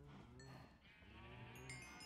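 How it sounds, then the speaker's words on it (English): Cows lowing in Minecraft, two drawn-out moos in quick succession, quiet and alone with no talk. "I guess I could go through and just breed the cows only"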